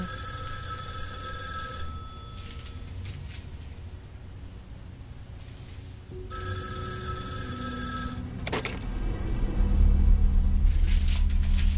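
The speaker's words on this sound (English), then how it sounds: "And the phone rings and there'll be nobody there." A telephone rings in a horror game, with repeated ring bursts over a low rumbling ambience that grows louder toward the end, with no talk.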